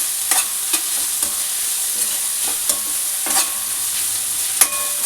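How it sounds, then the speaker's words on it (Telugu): Capsicum stir-fried alone in a pan: a loud steady sizzle with a spatula scraping and tapping the pan at intervals, no talk. "క్యాప్సికము ఫ్రై అవ్వడానికి ఎక్కువ టైం పట్టదండి, అందుకని అన్నిటితో పాటు కాకుండా ఇలా విడిగా వేశాను."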